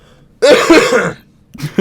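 A single harsh, close cough, followed a moment later by the start of another.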